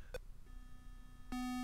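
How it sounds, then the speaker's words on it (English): Electronic beeps from a Pong-style tennis plug-and-play TV game: a short blip near the start, then a longer sustained pure tone cutting in loudly near the end, over faint hum. "Don't you beep at me!"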